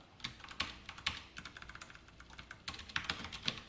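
Keys clack quietly and rapidly on a computer keyboard as code is typed for a React and Android programming lesson on function returns. The keystrokes come in uneven bursts with short pauses, and no voice is heard.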